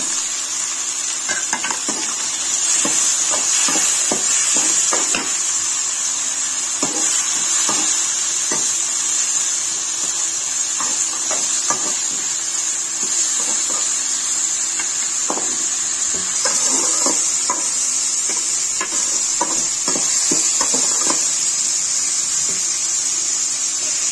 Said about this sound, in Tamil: ஸோ அதனால் தக்காளியை கொட்டி நல்லா வதக்கிக்கலாம்.